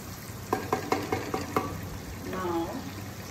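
Tomatoes cook in a pan for chow mein, a steady low sizzle with a run of close, sharp utensil scrapes and taps early on, then a softer stirring rustle.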